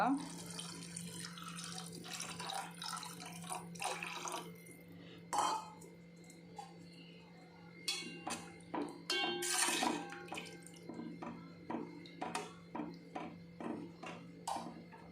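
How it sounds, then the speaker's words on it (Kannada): Water runs from a tap into a vessel while tomato saaru is being prepared, with a steady pour broken by clinks of utensils and splashes, heard close up with no talk. "ಹಿಟ್ಟೆ ಆಯ್ಕೊಂತೆ ನೀರು ಮೈಪುಗ"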